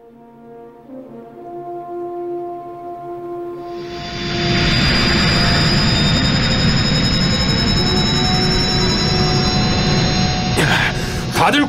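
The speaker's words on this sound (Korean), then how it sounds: "저기 제트기예요." A jet aircraft engine in a dubbed animated film starts as a lower whine and swells into a loud, sustained roar with a high-pitched squeal layered on top.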